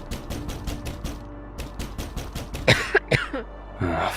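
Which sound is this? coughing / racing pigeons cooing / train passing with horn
coughing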